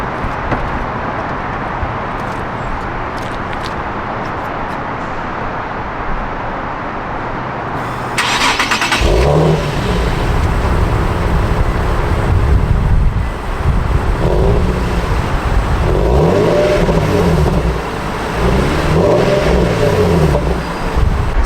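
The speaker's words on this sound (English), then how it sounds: "let you guys hear how it sounds when I turn it on" A stock Nissan 370Z starts up after a stretch of wind and background hiss, then the engine catches into a loud idle with several rising revs, recorded close outdoors without talk.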